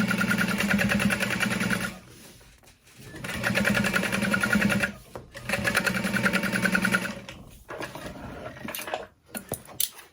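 Sewing machine top stitching through a backpack panel, running in three close, loud bursts of rapid rhythmic stitching separated by short pauses with handling clicks, no talking.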